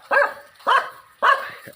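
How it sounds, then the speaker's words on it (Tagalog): A dog barks three times at an even pace, fairly close, with short gaps of quiet between the barks. "Ang dalawang aso."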